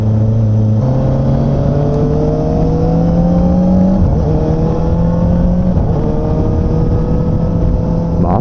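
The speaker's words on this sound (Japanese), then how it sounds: "ダウンのシフター楽。 ブリッピングちゃんとやってくれるもんな。" A Kawasaki ZX-4R SE's high-revving four-cylinder engine drones loudly and steadily with its pitch stepping up and down, and quick throttle blips from the auto-blipping downshifter can be heard at several points. The sound is close and continuous, with no voices.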